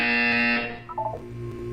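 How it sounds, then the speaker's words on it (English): A loud, steady electronic buzzer from the Portal 2 video game sounds for about half a second, then cuts off into quieter background tones with no talking. "You will hear a buzzer."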